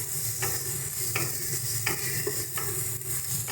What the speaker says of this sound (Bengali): সমস্ত কিছুকে ভালো করে মশলাটাকে কষিয়ে নেব, যতক্ষণ না মশলাটা থেকে তেল ছেড়ে দিচ্ছে।